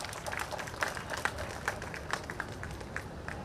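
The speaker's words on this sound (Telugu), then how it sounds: "వెనక ఉన్న మొత్తం గట్టిగా కొట్టాలి క్లాప్స్." A large audience at a job fair claps in a dense ragged burst, many hands close and far together, steady and lively throughout.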